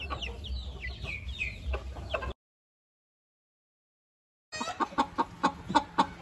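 Young standard-colour Onagadori chickens, about one month old, cluck and chirp close by in short repeated bursts, with a stretch of silence between the two groups of calls.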